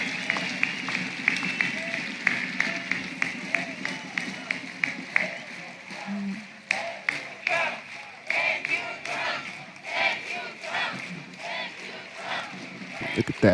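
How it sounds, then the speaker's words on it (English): A large crowd chants a rhythmic thank-you to Trump, with repeated loud pulses of many voices, distant and echoing, rising and falling in waves and mixing with cheering and some clapping. "They're chanting, "Thank you, Trump.""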